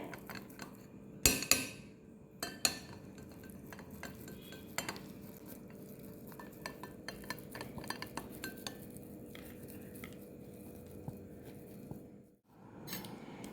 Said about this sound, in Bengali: আমি দুটো সেদ্ধ আলু গ্রেট করে নিচ্ছি প্রথমেই